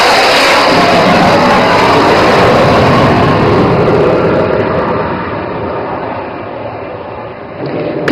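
A military thrust-vectoring jet flies an overshoot at an airshow in Dibrugarh, Assam, its loud broadband engine roar filling the air for several seconds before easing slightly toward the end.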